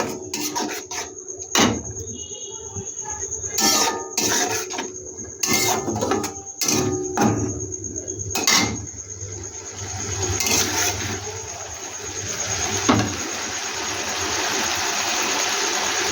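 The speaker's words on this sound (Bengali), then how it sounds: "এবার একটু ভালো করে কষিয়ে নেব।" Curry sautéed with whisked sour yogurt in a pan, a continuous scraping and rubbing of a spatula against the pan with frequent sharp knocks, close and moderately loud.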